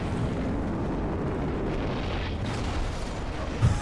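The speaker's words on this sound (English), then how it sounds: "That was quite the explosion." A deep, rumbling explosion in Dark Souls III roars on with a sustained low boom, dense and steady, with a small extra thump near the end.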